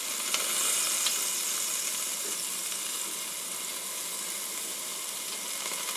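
A New York strip steak sizzles steadily on a Ninja Foodi grill, a continuous close hiss and crackle with no voices over it.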